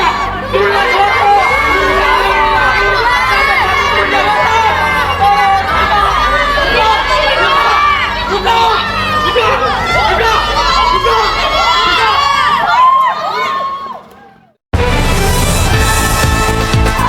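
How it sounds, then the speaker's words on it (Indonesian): A large crowd of protesters shouts and chants continuously in a staged Jakarta May 1998 street protest scene from a short film, loud and dense for about fourteen seconds before a brief cutoff and then a return. "Teriakan massa bercampur dengan suara siren yang sangat meraung lamanya."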